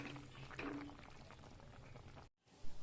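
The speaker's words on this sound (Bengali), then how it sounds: "ঝোলটা দেখো কত সুন্দর ফুটছে" Curry broth for a lentil-fritter curry bubbling at a boil in a pot, a quiet, close, continuous burble that drops out briefly near the end.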